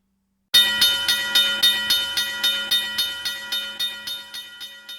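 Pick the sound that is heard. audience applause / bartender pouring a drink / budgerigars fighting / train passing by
train passing by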